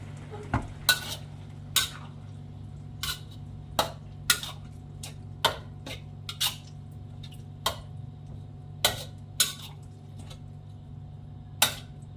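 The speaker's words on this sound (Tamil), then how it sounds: "நல்லா கலந்து விட்டுறோம்" A spoon stirs greens mixed with curd and buttermilk in a pot over a low flame, giving a series of sharp, irregular clinks against the metal over a quiet, faintly humming background.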